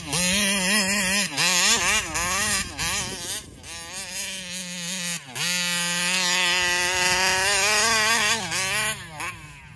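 A Taylor RC 35cc reed engine, with a carburetor fault that stops it idling, runs loud and close for the whole clip. It is a continuous, high buzzing whine whose pitch wavers and dips briefly as the throttle changes.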